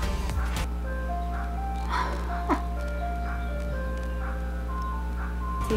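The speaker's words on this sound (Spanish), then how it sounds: "Bienvenido al carro de paletas." An ice cream truck's tinkling melody plays over a steady low engine hum as the vehicle rolls past outdoors, fairly close and continuous, with faint street noises underneath.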